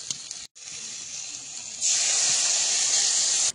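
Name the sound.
water poured into hot pan of crab, potato and Malabar spinach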